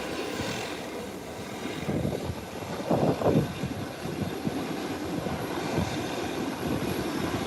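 An Intercaribbean Embraer 120 turboprop taxis toward the taxiway at Grand Turk. Its propeller engines give off a steady, moderately loud whine and rumble, with a few brief swells in the middle.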